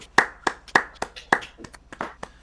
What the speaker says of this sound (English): Let's clap it up for Layla.